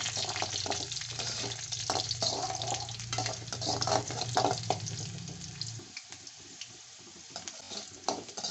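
Peeled garlic fries in oil with mustard seeds and fenugreek, a close, steady sizzle with scattered stirring clatter. A low hum fades out partway through, after which the quieter frying continues.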